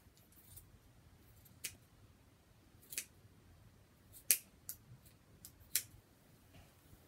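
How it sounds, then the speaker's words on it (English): Scissors cut through a shirt with a few sharp, quiet snips spaced irregularly, close by against a near-silent room, no voices. "This is her favorite shirt right here, and I am going to cut it"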